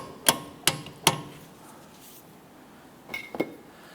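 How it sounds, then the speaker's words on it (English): Sharp metallic hammer taps on a CV axle being seated on a 2007-2012 Nissan Versa: three evenly spaced ringing strikes, a pause, then two quicker lighter taps, close and clear in a quiet garage. "use your hammer and just tap that up and on."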